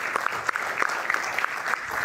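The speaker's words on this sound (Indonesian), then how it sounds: "kita berikan tepuk tangan" Studio audience applauding on an Indonesian football talk show as a guest is called up, a steady mid-level patter of hand claps with scattered sharper individual claps throughout.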